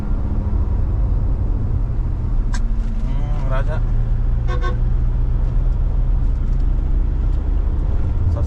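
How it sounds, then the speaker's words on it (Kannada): Toyota Innova engine droning loudly at high revs in fifth gear, a steady low rumble filling the cabin throughout, with a person talking over it. "ಈಗ 5ನೇ ಗೇರಲ್ಲಿ ಇದೆ ಗಾಡಿ, RPM ನೋಡಿ ಎಷ್ಟು ಲೌಡ್ ಇದೆ"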